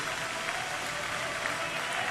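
A baseball stadium crowd of nearly 28,000 stands cheering and applauding in a steady, dense roar of clapping that barely varies, with a commentator talking over it.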